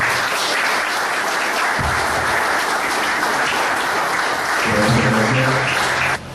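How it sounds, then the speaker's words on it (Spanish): An audience applauds to welcome a speaker at a public talk on Peronism, a dense, sustained round of clapping at steady loudness that carries on for several seconds before cutting off at the end. "Acá hay un aplauso para Daniel Di Giacinti."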